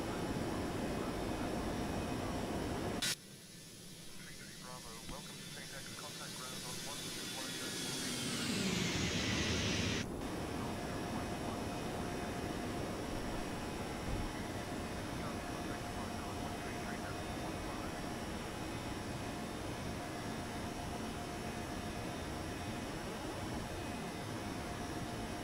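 Airbus A321neo jet engines in X-Plane 12, climbing after takeoff: a steady, loud broadband roar with a whining tone that sweeps downward, then a sustained drone. Faint radio-style voices sit underneath.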